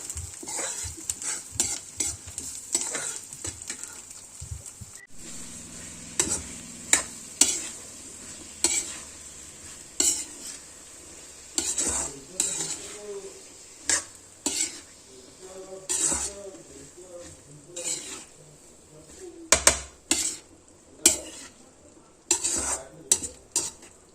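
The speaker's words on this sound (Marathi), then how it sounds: "आता हे सर्व छान आपल्याला तेलात परतून घ्यायचं" Sliced onion, garlic and slit green chilies sautéing in oil in a pan over a wood-fired chulha, with a soft sizzle beneath frequent sharp clacks and scrapes of a metal spoon stirring against the pan, close and uneven.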